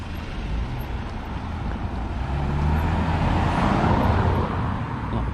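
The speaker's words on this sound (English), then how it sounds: "A lot of traffic about at this time of day." Road traffic rumbles past near an old railway bridge on the Fosse Way, a continuous close wash of engines and tyres that swells louder midway.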